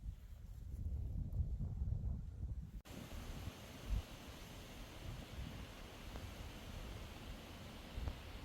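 Steady wind rushes through an Adirondack lean-to campsite on a fall canoe trip, a continuous broadband roar that drops to a quieter, even hiss partway through, with no voices.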